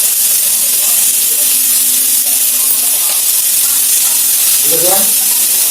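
Ingredients fry in a pan with a loud, steady hiss and sizzle that stays constant throughout, with a faint voice and a brief clink near the end.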